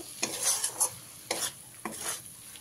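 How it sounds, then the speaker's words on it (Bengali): Fried potatoes are stirred into a sizzling spice masala in a pan, with several scraping strokes of a spoon over a steady frying hiss, close and moderately loud. "আমি এবারে এর মধ্যে ভেজে রাখা আলুগুলো দিয়ে দিলাম। দিয়ে ভালো করে মশলার সাথে মিশিয়ে নেব।"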